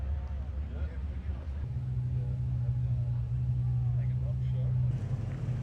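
A car with purple metal flake paint approaches at a car show, its engine a low, steady rumble with a hum that grows stronger, while people talk faintly nearby.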